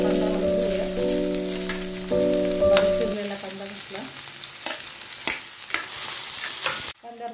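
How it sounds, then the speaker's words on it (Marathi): Salted onions sizzle in hot oil in a kadhai while being cooked for pav bhaji. A steady crackling fry runs throughout with intermittent stirring scrapes, and a faint tonal hum sits under the first few seconds. No one talks. "कांदा परतत आलेला आहे"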